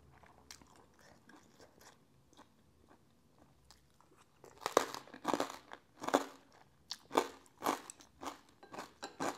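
Crispy-skinned Vietnamese roast pork is chewed close up, starting with faint quiet bites and then loud sharp crunches coming in a rhythmic series of about a dozen, with no talking.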